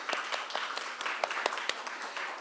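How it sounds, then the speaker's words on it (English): A small audience at a selectboard candidates forum in a senior center gives a brief round of scattered clapping, individual claps audible in an irregular patter, moderately quiet and steady throughout. "a little round of applause"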